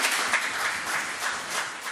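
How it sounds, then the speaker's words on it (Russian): Applause at a meeting with FIFA president Gianni Infantino in Kazan, a dense crowd of hands clapping steadily for a couple of seconds, close and fairly loud with no talking. "Аплодисменты."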